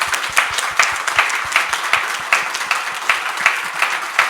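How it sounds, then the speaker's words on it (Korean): A church congregation at a Mexican Spanish-language service claps in a steady, rhythmic beat, the applause loud and close and continuing throughout. "Vamos a aplaudir."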